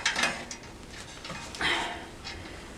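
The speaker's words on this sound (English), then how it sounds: "So I'm going to thread this bolt through here" A bolt is worked through a wood burning stove fitting in a campervan, giving scattered metallic scrapes, ticks and clicks with a ratcheting quality, close and moderately quiet, with no talk.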